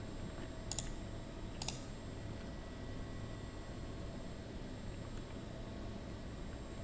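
Computer mouse clicking during CAD drafting work, two quick pairs of sharp close clicks early on and a fainter single click later, over a low steady hum in a quiet room.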